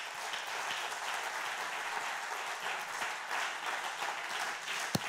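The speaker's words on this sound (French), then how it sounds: "Est-ce qu'on peut acclamer le Seigneur," A church congregation applauds and cheers for the Lord: steady, dense clapping sustained throughout, with one sharp louder clap near the end.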